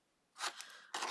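Scissors cut paper corners for a craft folio: two close, crisp snips, the first stretching into a rasping slice and the second coming just after a brief pause, heard alone in a quiet room.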